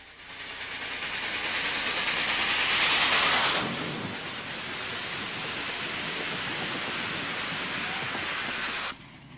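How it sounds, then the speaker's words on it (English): A streamlined steam-powered model train, the New York Central Empire State Express, rushing along a layout's cliffs and into a tunnel, a steady rumbling hiss that swells, then shifts to a duller roar before cutting off. "the steam-powered, streamlined New York Central Empire State Express rushes along the cliffs and through a tunnel"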